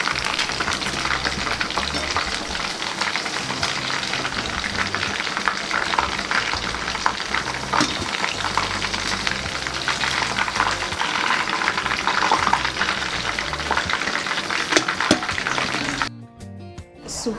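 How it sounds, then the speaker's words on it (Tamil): Chicken frying in hot oil for a home biryani meal, a steady dense sizzle and crackle running continuously at close range, cutting off abruptly near the end. "நல்லா வந்து சிக்கன் பொரிஞ்சோடனே எடுத்துக்கலாம்"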